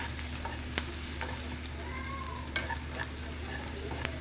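Chopped onions fry in mustard oil with a soft, steady sizzle, interrupted by a few sharp clicks and scrapes of a stirring spoon against the pan.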